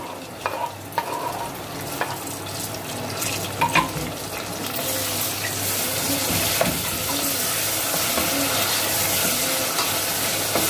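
Tomatoes sizzling with light golden onions in a pan for aloo shimla mirch sabzi, a constant frying hiss with scattered scrapes and clinks of stirring, growing louder and denser through the second half.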